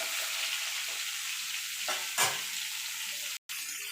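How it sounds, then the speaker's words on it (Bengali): Pointed gourd (potol) pieces frying in hot oil, a loud continuous sizzle with a few brief stirring scrapes and one short break near the end. "আমি পটলগুলো লাল লাল করে ভেজে তুলে নেব।"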